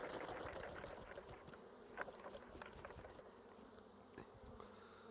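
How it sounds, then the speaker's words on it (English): A swarm of honeybees shaken from a hive buzzes continuously at close range, a low droning hum with occasional louder passes of individual insects. "The flying bees will come out of there."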